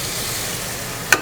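Onion and dry coconut paste gravy cooks in a pan for an egg kothu parotta, giving a steady close sizzle and hiss with a brief sharp clink or scrape near the end; no one talks.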